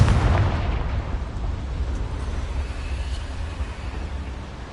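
A Confringo spell explosion in the video game Hogwarts Legacy, a loud rumbling boom that fades into a sustained low roar of debris with no talking.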